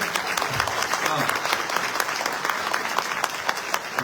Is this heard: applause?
yes